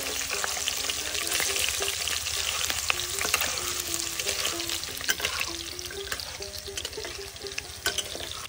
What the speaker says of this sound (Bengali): তো এবার আমি দিয়ে দেব পেঁয়াজ কুচি, মরিচ কুচি। পেঁয়াজ কুচি, মরিচ কুচি দিয়ে দেব। সুন্দর মতন বাদামি কালার করে ভেজে নেব।